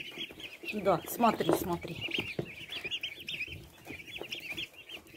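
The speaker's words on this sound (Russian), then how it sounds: "Индюшаты родились 6 апреля, а сегодня 18." Young turkey poults, about twelve days old, in a farm poultry yard, cluck and peep in a busy cluster of short calls. Someone speaks briefly over them.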